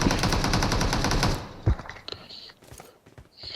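A rapid burst of automatic gunfire rattles for over a second, then a few scattered shots and clicks follow in the mobile game BGMI.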